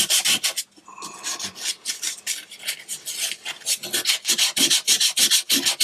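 Steady rhythmic rasping of sandpaper on a wooden guitar neck, quick back-and-forth strokes repeating close and loud with only a brief pause.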